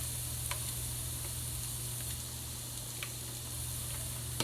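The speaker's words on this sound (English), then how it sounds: "Let me put the onion in. So there's the onion." Onion sizzling steadily in a pan over lowered heat while Indonesian curry chicken is being cooked, a soft continuous frying hiss with a few faint clicks and no talking.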